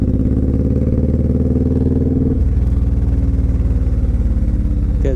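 A Suzuki Boulevard C109R 1800 cruiser motorcycle rumbles under way with a loud, steady deep engine drone that shifts to a new pitch partway through, as if after a gear change, with no talk.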